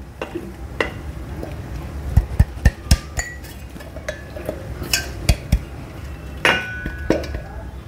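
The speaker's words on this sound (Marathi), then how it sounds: "आपलं हे ओट्स मिक्सरमध्ये बारीक करून झाले. आता हे मी एका भांड्यात काढून घेते." Ground oats are tapped and scraped out of a mixer jar into a kitchen bowl, giving sharp metallic clinks and knocks in an irregular cluster, up close over a quiet room.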